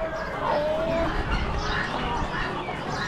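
Poultry such as chickens and ducks sold at an Amish animal auction, heard as continuous clucking and chatter amid the hubbub of a busy barn, with people talking and one sustained tonal call early on.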